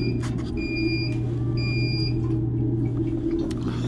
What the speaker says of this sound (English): Safety alarm, the sash was up too high.